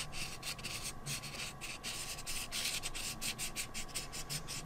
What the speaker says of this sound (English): I'll be using another alcohol ink marker.